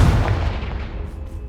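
Confringo fire spell from Hogwarts Legacy erupting in one loud, heavy blast with a deep rumbling low end that fades over a second and a half, no voices.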